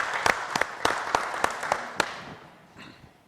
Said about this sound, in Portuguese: Aplauso mesmo para esse cara que está merecendo aplausos e aplausos calorosos.